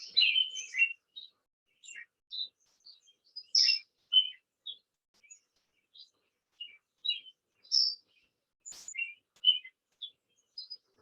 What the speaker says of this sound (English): And then I'm going to extend the bird song out and then fade it out.